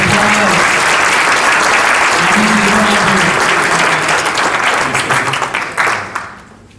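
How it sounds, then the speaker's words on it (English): Loud applause for competitors at a hotel technology conference in Monte Carlo: a thick wash of clapping across a large crowd, with a voice and some murmur underneath, tapering off sharply near the end. "Give a round of applause."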